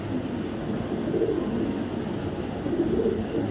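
A pair of red checker racing pigeons with their young coo softly and steadily, heard close by under a low background rumble.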